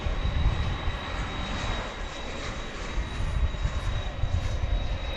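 An aircraft departs DFW Airport at night, its engines producing a steady, loud low-heavy roar with a thin high whine running through it, continuous and uninterrupted.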